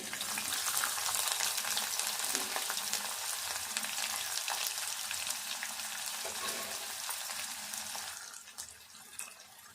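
Chopped onions sizzle steadily in hot oil with cumin and garlic tempering for a dried fish and tomato curry, a dense continuous frying hiss heard up close with no talk.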